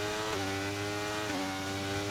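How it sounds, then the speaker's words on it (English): F1 car engine in the racing game F1 23, a sustained high-pitched whine with a couple of brief gear-shift dips, steady and loud, no talking. "Let you guys enjoy the engine sound again for a bit"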